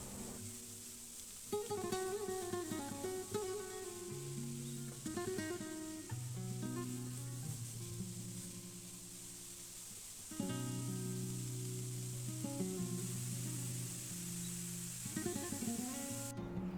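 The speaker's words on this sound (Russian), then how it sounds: "Добавьте морковь на сковородку и перемешайте." Carrots frying in a pan with softened onions, a low steady sizzle joined by intermittent scraping and stirring sounds, heard alone with music playing underneath.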